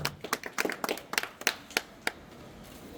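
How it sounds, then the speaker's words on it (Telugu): Scattered hand clapping from an audience at a prize ceremony for senior-category winners, a sparse, uneven run of distinct claps that thins out toward the end. "గట్టిగా చప్పట్లు కొట్టాలండి"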